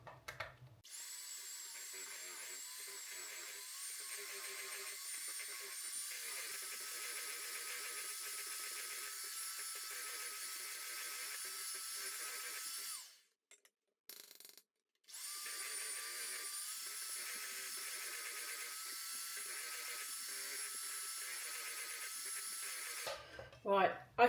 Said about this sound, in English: And then whisk until fully combined before we add the double cream.